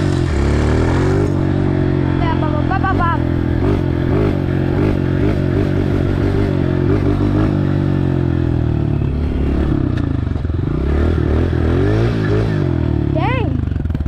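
Dirt bike engine roaring and revving hard through a drag launch in mud, loud and close throughout with rising pitch sweeps, scraping clatter and voices shouting over it.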